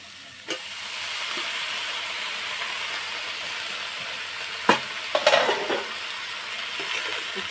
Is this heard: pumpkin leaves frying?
yes